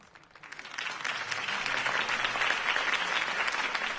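Crowd applause for Harvey Dent's campaign speech in the Batman Telltale video game swells up from a quiet start and holds as a dense, steady wash of clapping from a large audience.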